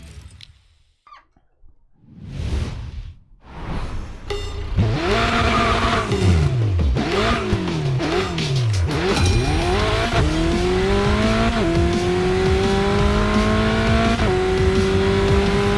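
Alfa Romeo 4C engine in the Racing Master video game, starting quietly and then revving hard, climbing through repeated gear-shift sweeps into a sustained high-pitched drone with faint tire squeal.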